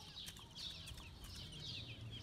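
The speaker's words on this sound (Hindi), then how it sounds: "ये अभी हीरा जो है ना हमारे न्यू चिक्स के लिए दाना डाल रही है" An Aseel hen clucks softly while scattering feed for her newly hatched chicks, with repeated short, faint clucks in a quiet farmyard.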